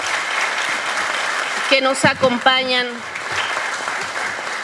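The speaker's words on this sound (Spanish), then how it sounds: "Un fuerte aplauso para todas y todos ustedes" Conference attendees applaud in a large hall, a steady wash of clapping underneath a speaker's amplified voice.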